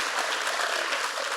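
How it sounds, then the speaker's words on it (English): Audience applause at a climate leadership event, dense steady clapping from a large crowd, close and sustained throughout. "Applause for Jared Huffman."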